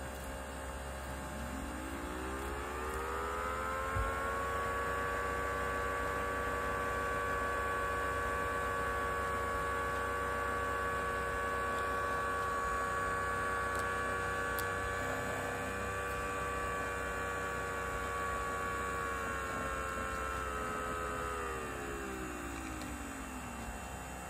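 A siren blower motor whine that winds up to a sustained wailing tone, holds steady for many seconds, then winds back down, under a background hum.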